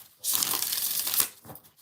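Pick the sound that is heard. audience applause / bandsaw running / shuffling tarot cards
shuffling tarot cards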